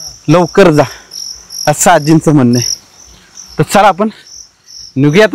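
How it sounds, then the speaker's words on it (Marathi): Crickets chirp with a steady high trill in a dense forest at night, heard faintly under a person talking close by. "अगदी रातकिडे ओरडतायत किरकिर म्हणून,"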